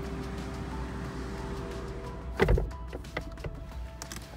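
A power door on a 2019 Rolls-Royce Phantom VIII closes by button: a low motor hum runs steadily, then a soft, solid thunk as the door seals, followed by quiet cabin ambience.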